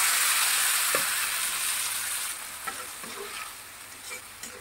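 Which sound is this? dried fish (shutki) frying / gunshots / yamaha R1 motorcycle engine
dried fish (shutki) frying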